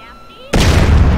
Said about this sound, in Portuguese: Explosões da granada.